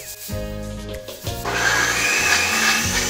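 Mixer grinder grinding roasted coconut, garlic and cumin, a loud steady motor whir with harsh rattling that cuts out and restarts in short bursts, then runs continuously.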